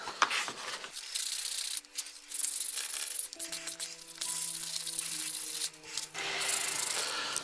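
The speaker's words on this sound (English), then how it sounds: "I'm using a fine sander to start with" Fine sander working over the body of a Star Trek tricorder prop, a steady close rubbing rasp with brief breaks as it moves around the moulding; no voices.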